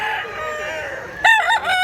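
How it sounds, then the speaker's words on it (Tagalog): A rooster crows loudly and close by in a cold-climate chicken yard, its harmonic call rising sharply near the end over a steady background of clucking hens. "Manok."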